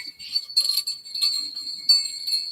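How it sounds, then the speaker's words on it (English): Small brass-colored bells on top of a little novelty hat jingle in bright, tinkling bursts with uneven rhythm, close and clear over near silence. "little brass colored bell"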